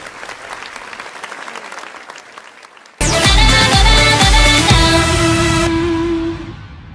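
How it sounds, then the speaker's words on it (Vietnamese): A singing contest audience's applause starts faintly, then bursts loud and full over bright stage music, holding steady for several seconds before tapering off. "Một tràng vỗ tay nữa dành cho Ánh Nguyệt và Tuấn Nguyễn."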